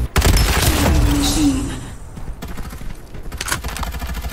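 Rapid bursts of gunfire in the shooter game Farlight 84, a loud opening volley followed by quieter scattered shots and mechanical clatter, with no voices over it.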